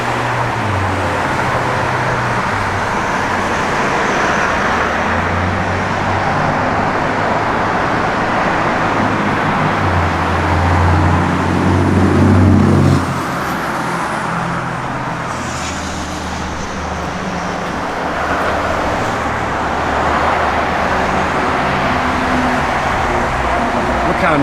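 A 1969 Plymouth Road Runner with a vinyl top drives along, its engine rumbling low and continuous under steady road noise that holds fairly loud and unbroken throughout.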